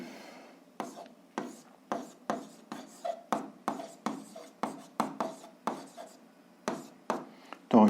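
A pen writes a math solution on paper in a run of about a dozen short, evenly spaced scratchy strokes, close and fairly quiet.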